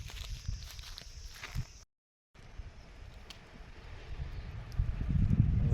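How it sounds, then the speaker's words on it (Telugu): Outdoors in a burnt area, wind rumbles in low, uneven gusts against the microphone, cutting out briefly and then building louder toward the end, with light footstep-like rustles. "గాలి వస్తుంది"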